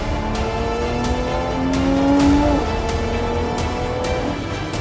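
A Lotus sports car driven on a wet, hilly race circuit in sport mode, its engine note rising steadily under aggressive throttle with tyre hiss, heard close and loud from inside.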